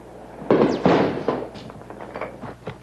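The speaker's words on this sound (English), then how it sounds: "As the night wears on, the fighting intensifies. Artillery, heavy machine guns, and rocket-propelled grenades put everyone in the area at risk." Artillery, heavy machine guns and rocket-propelled grenades fire during night fighting: several sharp, loud bangs in quick succession, followed by fainter scattered cracks and rumbling that carry on in the distance.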